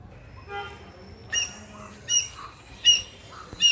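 Gray hornbills calling from fig trees: several loud, sharp squawks come in a rhythmic series over about three seconds, close by, with a faint low background murmur.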